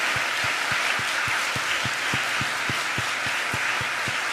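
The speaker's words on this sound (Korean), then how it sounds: "우리 박수로 축복하겠습니다." A church congregation applauds at a Baptist pastor's ordination ceremony, giving a steady wash of clapping with a few louder rhythmic claps standing out.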